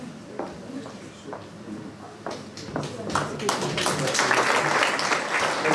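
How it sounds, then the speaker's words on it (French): At a New Year's sports medal ceremony in Tosse, scattered claps build into fuller, sustained applause for an award recipient, growing louder toward the end. Voices can be heard underneath. "On peut l'applaudir"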